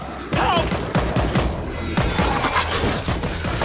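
Rapid bursts of gunfire crackle nonstop, a loud dense barrage of shots with heavy low thumps, like automatic weapons in a World War Z zombie firefight.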